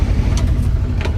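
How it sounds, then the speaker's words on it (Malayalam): A bus engine rumbling past close by, a loud, low, continuous drone with brief hissy bursts, heard alone without voices. "ഇത് 120 പോണ ബസ്സാണ്."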